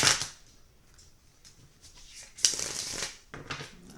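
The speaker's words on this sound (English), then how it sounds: "but I shuffle them again to set the intention for you." A deck of tarot cards is shuffled by hand in a few riffling bursts, loudest at the start and again midway, with quiet gaps between and no talking.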